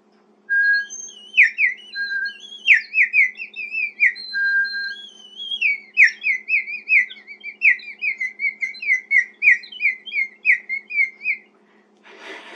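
A small bird flute from Peru is played alone, with bright warbling whistles, slides and rapid trills continuing for about eleven seconds before stopping abruptly.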